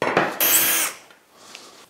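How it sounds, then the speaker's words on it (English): Festool drill boring out a guide block, a loud whirring burst of drilling that cuts off sharply, followed by quieter handling and rustling. "So I'm going to drill out here and here"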